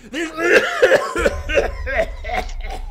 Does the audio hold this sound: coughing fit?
yes